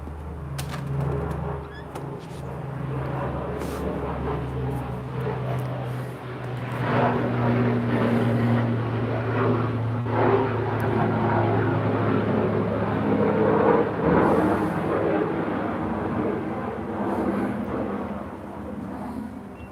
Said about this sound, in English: There's a lot of interesting air traffic tonight.